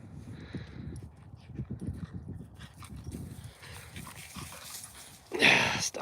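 A playful dog outdoors near a bison herd on a ranch, with scuffling, panting and whimpering sounds at close range, ending in a louder burst of noise.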